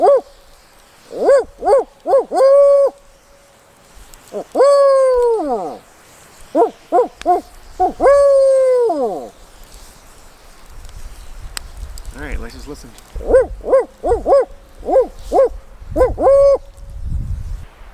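A human voice imitates owl hooting outdoors while cold-weather camping, in repeated bursts of several hoots, close and clear, with short pauses between groups and brief speech in between.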